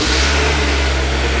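A convertible car's engine idles steadily up close with a low, even rumble that holds for about a second and a half, with no talk.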